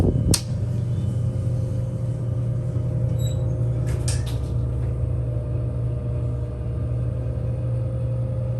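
Steady low hum and whir of a fan running inside a Montgomery hydraulic elevator car at a Forever 21 in Baybrook Mall, Friendswood, with a sharp click near the start and a few faint clicks partway through.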